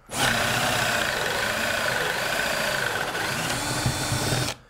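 A drill cuts a 35 millimeter hinge cup hole into cabinet wood, a loud, continuous grinding whir that starts suddenly and runs unbroken for over four seconds before stopping.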